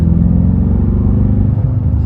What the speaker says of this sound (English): it just gives a nice little burble from the exhaust